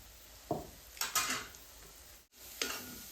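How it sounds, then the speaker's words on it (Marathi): Ground spices are stirred into a hot oil tempering for village-style shev bhaji cooked on a wood-fired stove. A quiet sizzle runs underneath while a spoon scrapes the pan in a few distinct strokes. "मसाले फोडणीमध्ये मिक्स करून घेऊ। तेल सुटेपर्यंत आपल्याला परतून घ्यायचे।"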